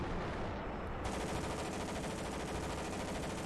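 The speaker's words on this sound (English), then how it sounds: "Oh, we got the flak gun on us." Flak gun firing in the Ravenfield video game, a dense, continuous roar of rapid shots that keeps up loudly for the whole stretch.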